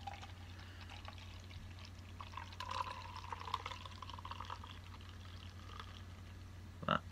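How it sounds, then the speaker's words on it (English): Yellow Belly imperial stout poured into a glass, a soft, close trickle and gurgle of liquid running for several seconds, with a small clink near the end. "That pours out very nicely."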